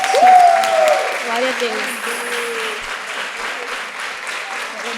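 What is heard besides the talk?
audience applause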